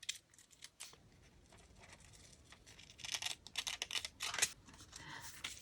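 Scalloped scissors snip through a paper envelope in short, crisp cuts and crinkles, quiet and close, in irregular bursts.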